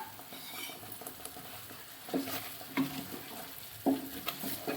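Butter chicken masala fries in a kadhai while a spoon stirs it, giving soft sizzling beneath a few distinct scraping strokes at irregular intervals; no voices.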